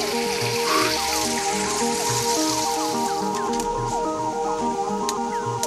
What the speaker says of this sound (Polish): Pięknie sobie tutaj potok płynie.